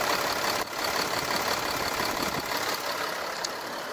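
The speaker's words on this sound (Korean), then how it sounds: "디젤 엔진이지만 정숙한 엔진 소음을 만나보실 수가 있고요" Kia Mohave diesel 4WD QV300 engine idling with the hood open, a steady, smooth, fairly quiet mechanical hum with little variation throughout and no voices.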